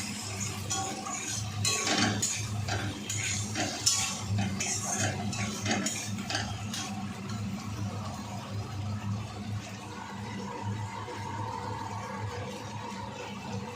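Potatoes being stirred into masala in a cooking pan, with steady scraping and clinking of a utensil against the metal over a continuous low hum, fairly close and moderately loud.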